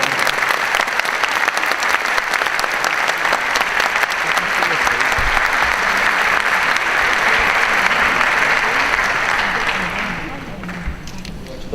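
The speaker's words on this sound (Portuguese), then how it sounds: "eu gostaria que vocês dessem uma salva de palmas para essa equipe aqui" An audience at a 50th jubilee gathering gives a long, loud, sustained round of applause for a team, dense clapping filling the room before fading out near the end.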